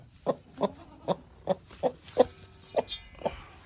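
A hen clucks in a steady series of about nine short, close clucks while being picked up and carried, evenly spaced, with no talking.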